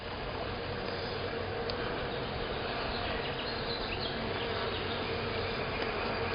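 A dense, steady buzz from a swarm of honeybees crawling over hive frames and wax, loud and close, continuing without a break.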